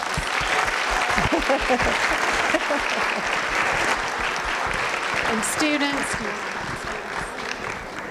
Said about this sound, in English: How about one final round of applause?